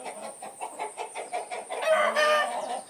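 Chickens cluck in a steady rhythm of short, repeated calls, then a rooster's drawn-out crow rises near the end, close and fairly loud.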